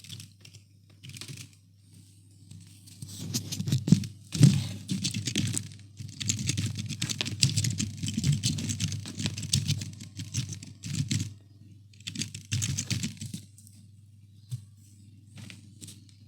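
Text entered into an office application on a computer keyboard, heard as several runs of rapid, close clicking separated by short pauses, with a steady low hum underneath.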